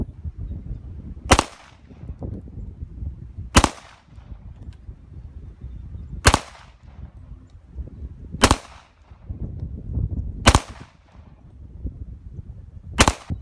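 Pistol shots from a 1911 and a Glock 21 fired at about 15 yards, six loud sharp reports spaced roughly two to three seconds apart over a low background rumble.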